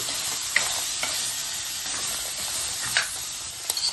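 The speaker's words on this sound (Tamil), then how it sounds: "பொரிச்சு வச்ச பன்னீர் கட்டி போட்டு" Pre-fried paneer cubes tumble into a hot pan for paneer devil and are stirred, with a steady oil sizzle running throughout and a few sharp clinks of the utensil against the pan.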